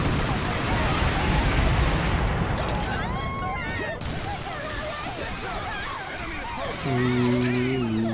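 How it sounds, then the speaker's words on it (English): Explosions and gunfire in the Earth Defense Force 4.1 video game, booming blasts and rumbling over a busy battle mix, with game sound effects and voices layered throughout. "Just watching the explosions, watching spiders crash to the ground"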